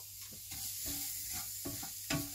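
Finely chopped onion and rice frying in a camping pot for a chorizo risotto, a faint steady sizzle with soft scraping stirs now and then.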